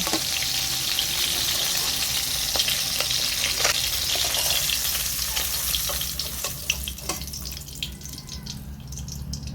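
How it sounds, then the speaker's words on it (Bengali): A fish head sizzles in hot oil in a kadai, a steady crackling fry with occasional sharper spits and pops, close and alone without talk. "মাছের মাথাটা ভাজা হয়ে গেছে, আমি তুলে নেব।"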